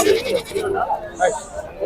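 Large goats bleat at Pebbair livestock market in several short, close calls amid crowd chatter, with a voice speaking over them.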